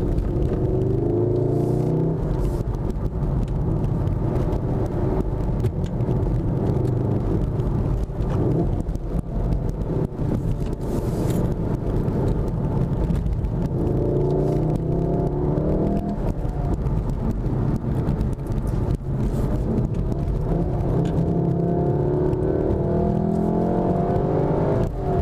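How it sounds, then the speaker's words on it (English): A 2016 Volkswagen Golf R is driven on the road, its engine droning steadily from inside the cabin with rises and falls in pitch as it accelerates and shifts, continuous and fairly loud with no talking. "I'm just going to shut up for a minute and drive."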